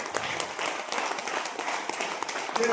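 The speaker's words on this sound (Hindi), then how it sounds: "शानदार वाली ताली।" Sustained applause from an audience at an educational program, a dense, even patter of many hands clapping at moderate distance with no speech on top.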